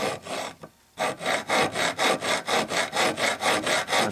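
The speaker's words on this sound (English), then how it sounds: "That's all I'm doing, just filing it down to a depth that I'm happy with." A file rasps across a metal truss rod to cut teeth, giving steady rhythmic strokes of about three per second after a short pause. The sound is close and loud with no talking.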